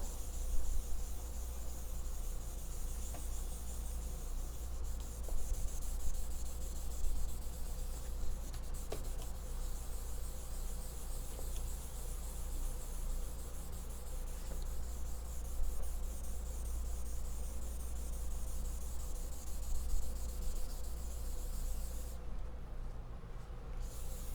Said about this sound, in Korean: 칠해 준 것을 화장지로 1차적으로 문질러서 명암을 부드럽게 만들어줘요.